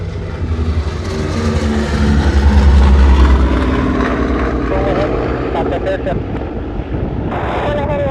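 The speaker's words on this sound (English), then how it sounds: "B-29 in the air." A B-29 bomber drones overhead at an air show in Dayton, Ohio, its propeller engines giving a loud, steady roar that swells and then slowly fades, with wind buffeting the microphone.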